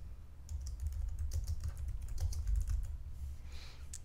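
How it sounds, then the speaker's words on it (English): Steady, close typing on a computer keyboard, a continuous patter of key clicks with uneven rhythm and no voices. "you can type your text"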